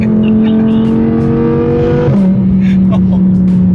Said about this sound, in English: Bro, this car is so sick.